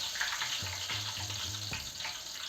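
Pempek sizzle steadily in hot frying oil, a dense crackling hiss with a low hum of stirring or movement in the middle, close and continuous.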